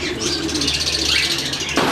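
A Peshawari breeder pigeon pair at a Multan bird market, close, soft throaty cooing in repeated pulses with faint chirps and wing rustle in the background.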